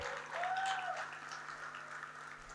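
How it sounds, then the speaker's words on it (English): An audience at a farewell event applauds in a faint, distant, steady patter that lasts the whole moment. It swells slightly near the start. "Big round of applause one more time for Captain Gokhale."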